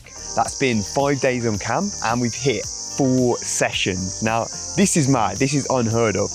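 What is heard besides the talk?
cicadas chirping in summer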